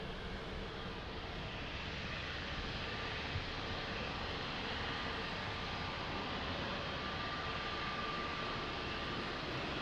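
Azores Airlines airliner at Lisbon Airport, its jet engines giving a steady, unbroken roar that holds at an even level throughout with no talk over it.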